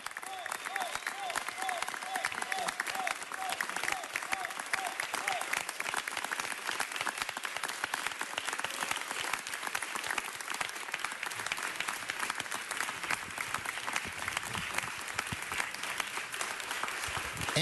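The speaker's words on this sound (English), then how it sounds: "let's give the senator one more large round of applause" An audience at a city council meeting gives the senator a long round of applause, sustained dense clapping heard at a moderate distance with some crowd murmur and brief talk underneath.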